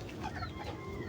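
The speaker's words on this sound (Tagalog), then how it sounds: "Tsaka doon sa mga alagahang manok." Several chickens cluck softly and continuously nearby, a brief low chatter of hens.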